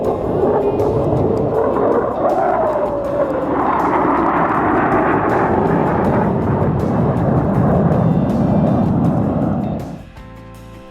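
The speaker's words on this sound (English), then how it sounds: "The jets fly through here" Military jets fly through Star Wars Canyon in Death Valley. One loud, sustained roar swells and shifts in pitch as a jet passes, then cuts off abruptly near the end.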